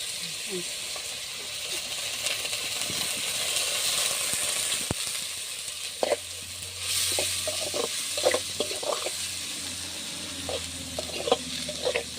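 Onions frying in a pan for a fish curry gravy give a faint, steady sizzle, with occasional stirring clinks and soft spoken talk over it.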